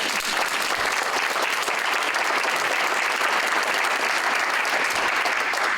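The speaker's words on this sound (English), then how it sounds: "join me in a round of applause for law enforcement in Wisconsin Rapids" Steady, sustained applause from a community meeting audience in Wisconsin Rapids honoring local law enforcement, dense clapping at even loudness throughout.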